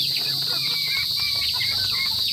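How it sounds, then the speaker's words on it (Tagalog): Chickens cluck softly and steadily right beside the listener in a provincial farmyard, repeated short clucks over a constant high-pitched background hum of insects. "Mababait naman po itong ating mga manok na to."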